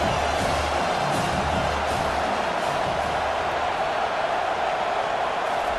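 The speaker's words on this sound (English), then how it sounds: "Decibels rising as the crowd gets behind this defense on 3rd down." A stadium crowd in the College Football 25 video game roars steadily as fans rally behind the defense on third down, a dense, continuous wash of cheering that holds at an even level throughout.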